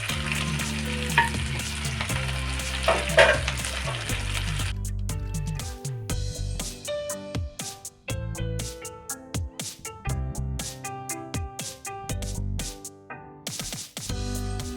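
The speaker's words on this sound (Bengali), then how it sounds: "আমি এটাকে অল্প তেলে সবগুলোকে একসঙ্গে ভেজে নেব" Chicken pieces frying together in a little oil in a pan, loud crackling sizzle at first, then sharp spattering pops and clatters as the pieces are stirred and turned.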